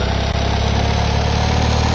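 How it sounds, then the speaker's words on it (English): A two-cylinder Maluch car engine in the video game Car Mechanic Simulator 2015 idles steadily with a low, even, purring rumble, loud and continuous throughout, no voices. "Oh, listen to that 2-cylinder purr."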